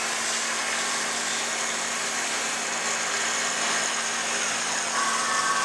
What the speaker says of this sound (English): it'll sync up, start spinning, and then it comes up with your cutoff, and it does the cuts the part off